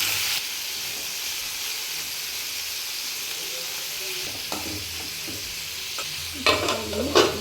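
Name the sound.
tomatoes frying and being stirred in a pan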